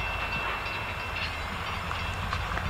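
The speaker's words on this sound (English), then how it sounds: "Not really a long train at all." A short freight train with two engines and a few gondola cars rumbles past close by, a loud, steady roar of wheels and cars with no pauses.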